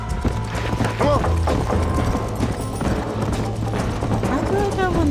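A horse's hooves clip-clop steadily in the Western video game Red Dead Redemption, with occasional whinnies and a speaking voice over the gallop.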